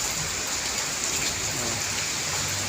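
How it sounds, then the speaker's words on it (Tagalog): Heavy rain pours down in a steady, dense hiss that fills the whole stretch evenly and close by, with no voices heard. "Malakas ang ulan."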